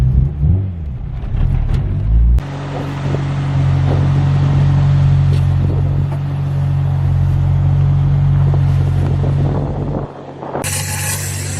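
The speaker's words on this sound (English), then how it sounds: "whenever the car's stopped and idling, if I'm cruising around, there you go. The idle will surge a little, and then drop back to normal." A B20B-swapped Honda EK hatchback sits idling, its engine a steady low rumble that swells slightly and settles, with the idle surging a little before dropping back; a brief quieter dip comes near the end, and no one speaks.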